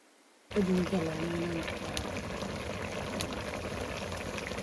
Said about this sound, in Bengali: এখন এটাকে বেশ কিছু সময় ধরে রান্না করে নিতে হবে যতক্ষণ না পর্যন্ত এই ঝোলটা একটু শুকিয়ে আসে